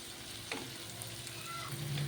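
Onions and garlic frying in oil in a pan, a steady close sizzle with a few soft stirring scrapes, no voices.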